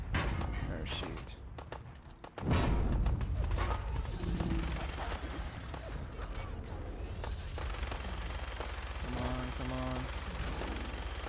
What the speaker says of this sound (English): gotta love playing with a minigun